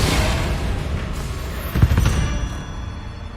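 Confringo fire spell blasts in Hogwarts Legacy, a booming in-game explosion with a sharp burst at its centre over a steady rumble of battle noise.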